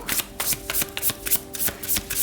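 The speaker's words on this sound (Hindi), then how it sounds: "तो चलिए शफल कर लेते हैं" Tarot cards being shuffled by hand, a close, loud series of rhythmic riffling bursts, each a quick papery flutter repeated in steady succession.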